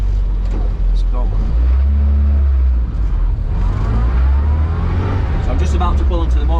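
Loud, steady engine drone of a 1972 classic minivan while driving, a deep rumbling low hum with road noise filling the cabin, and a voice talking over it throughout.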